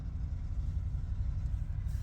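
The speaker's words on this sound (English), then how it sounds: "Just like that truck. I hate loud vehicles." A loud truck rumbles nearby with a deep, steady engine drone that holds at an even level for the whole stretch, without a clear rise or fade of a drive-by.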